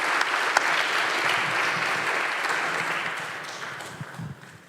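Audience applause for panelists at an industrial carbon management forum, a full round of clapping from a crowd that holds steady and then gradually tapers off.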